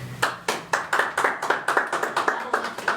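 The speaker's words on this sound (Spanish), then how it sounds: "¡Aplausos!" Clapping from an audience at a Spanish-language talk show studio taping as a guest is welcomed, heard as a sharp, rhythmic series of distinct claps, close and fairly loud, beating at a steady pace throughout.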